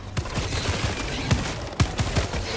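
Rapid shotgun and weapon fire in the video game Helldivers 2, loud bursts of blasts in quick uneven succession over a dense, constant battle din.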